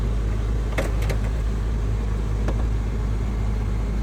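A 2003 Toyota Corolla engine idles nearby with the AC on high, a constant fan-like hum and a few faint clicks, no talking.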